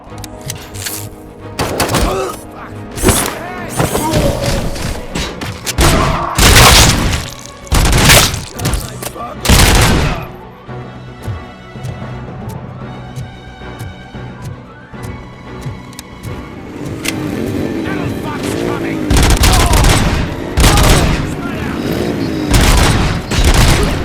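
Gunfire in the video game RoboCop Rogue City: loud, repeated bursts of shots and booming impacts fire in irregular volleys throughout, mixed with other game effects and voices talking.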